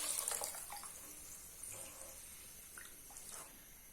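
About four cups of water are poured into a pot holding two cups of rice for peas pulao, making a soft, continuous splashing rush that slowly tapers off.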